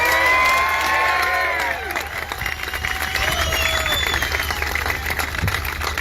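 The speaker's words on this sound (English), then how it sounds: "So please give that family a round of applause." A crowd at a trucker convoy gathering applauds and cheers, with loud sustained clapping, whoops and shouted voices spreading around the listener for the whole stretch.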